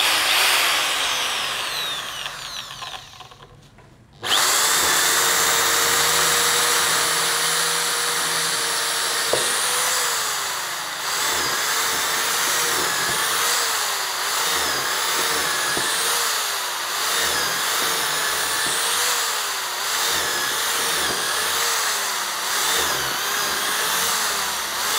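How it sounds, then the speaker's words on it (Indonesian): A power drill with a 10 mm bit bores into mahogany, running loud and steady for about 20 seconds with a whining pitch that dips repeatedly as the bit bites. A brief startup burst comes first. "Ya sekarang saya coba untuk ngebor kayu ya."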